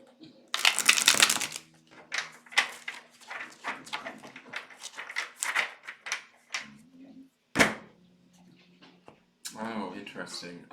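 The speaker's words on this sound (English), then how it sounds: "As I'm shuffling the cards" A deck of cards being shuffled by hand, with crisp riffling bursts and a string of soft flicks and taps, close and fairly quiet, while a person talks over it.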